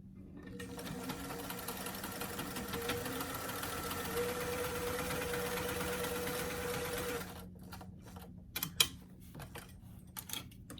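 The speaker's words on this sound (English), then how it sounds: "So I'm going to start by taking a few back stitches at that armhole edge, and then going forward" A sewing machine runs a steady whirring stitch along the armhole seam of a doll T-shirt, back-stitching to secure it, then stops and gives way to a few faint handling clicks.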